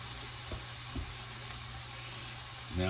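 Onions and peppers frying in a pan for chilli, a steady soft sizzle with a couple of faint knocks and a steady low hum, no talk.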